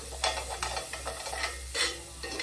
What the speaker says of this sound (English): I'm just gonna stir it around and get these nice and soft